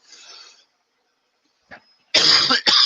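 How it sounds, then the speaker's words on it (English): Two loud, close coughs from a person, one quick burst after another, preceded by a fainter throat sound. "I didn't mean to cough into your ears"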